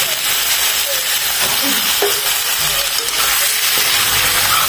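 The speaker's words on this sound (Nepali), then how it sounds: "बेसार राखेर राम्रोसँग चलाएर" Chicken meat sizzles and fries in a pan with turmeric while being stirred, a steady close hiss with occasional scraping and clinking from the stirring.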